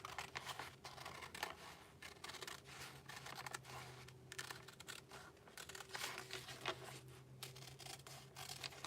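Paper being cut out with scissors while trimming an Easter basket decoration, a steady run of soft snipping and scratchy rustling at close range, with no talking.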